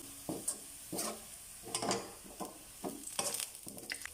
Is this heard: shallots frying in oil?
yes